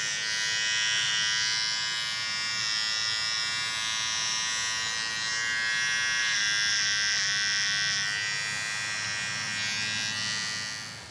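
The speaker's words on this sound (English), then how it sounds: "First thing we're gonna do is shave the hair around where we're gonna operate." Electric clippers buzz steadily while shaving hair on a goat's face around an abscess, a continuous high whirring drone that shifts slightly in tone as the blades move through the coat.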